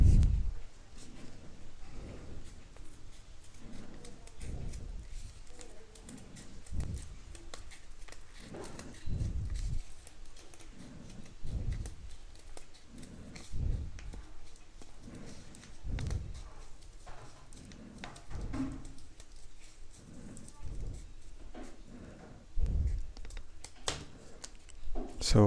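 Scissors snip through paper in a steady run of crisp cuts while shaping paper rose petals, close and fairly quiet, with a voice speaking over parts of it.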